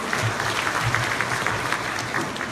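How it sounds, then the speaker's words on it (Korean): An audience at a Korean literary forum claps warmly for a poetry reader coming on stage, a brief, fairly close burst of even applause with no talking over it. "여러분 박수 한번 쳐주시죠."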